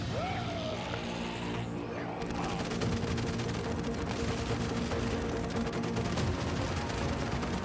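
Gunfire in the video game Once Human rattles steadily through the whole stretch: dense repeated shots and impacts with a continuous busy backdrop, moderately loud.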